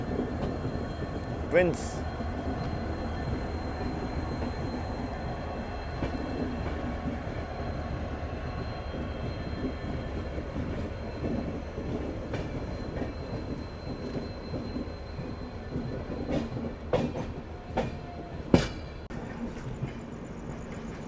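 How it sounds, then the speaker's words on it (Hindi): A Dibrugarh Rajdhani Express train with diesel locomotive running near Lucknow railway station, a steady rumbling roll with wheel noise and occasional sharp clanks and squeals, while a voice speaks briefly. "डीजल लोकोमोटिव के दर्शन।"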